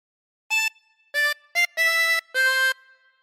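A tremolo harmonica plays a short Pop Goes the Weasel phrase: five bright, reedy blown and drawn notes in an uneven rhythm, close and alone against silence.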